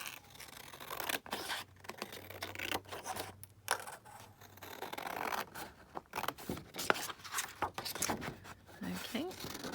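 A large postcard is cut down with scissors, giving close, intermittent snips and paper scraping in short bursts, with brief quiet pauses between them.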